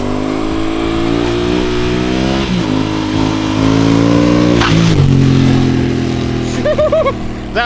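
A Honda Africa Twin 1100 motorcycle revs and passes very close, a loud engine note that climbs, shifts gears and swells as it goes by, then fades to cheering voices.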